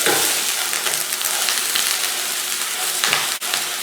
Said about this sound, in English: We're gonna drop the ground beef on. Sizzly.